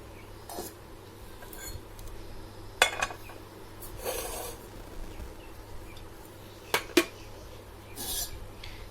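Non-stick kitchen pans stacked and packed away, with scattered close metallic clinks and scrapes separated by quiet pauses, including a couple of sharper knocks as the pans meet.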